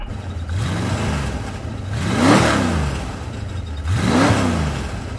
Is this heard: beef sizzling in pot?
no